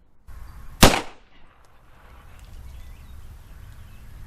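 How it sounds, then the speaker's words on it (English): A single 9mm pistol shot firing a 124 grain Speer Gold Dot round across a chronograph at an outdoor range, one loud sharp crack followed by a fading outdoor tail and wind noise. "Let's put 5 rounds down range across the chronograph"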